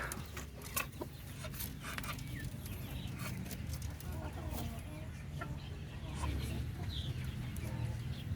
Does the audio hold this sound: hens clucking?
yes